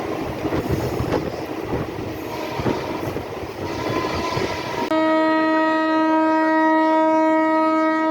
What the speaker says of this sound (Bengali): বর্ধমান ছেড়ে দিল আমাদের ট্রেন